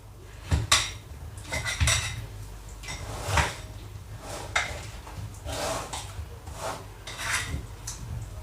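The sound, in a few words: mixing fruits with lemon and honey in a bowl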